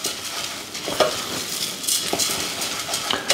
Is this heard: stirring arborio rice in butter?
yes